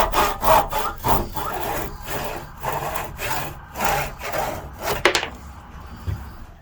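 A handsaw cuts about half an inch off a wooden stool leg, giving steady rhythmic back-and-forth rasping strokes, close and fairly loud, that end with a final snap as the piece drops off.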